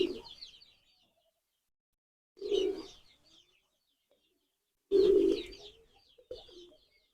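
Pigeons on a farm give three separate bursts of soft throaty cooing with silent gaps between them, heard close and clear.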